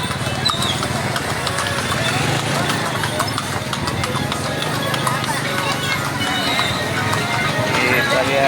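Horse hooves clip-clop steadily as the animal is ridden through a busy morning market at Puri Beta, a continuous rhythmic clatter under loud crowd noise and voices.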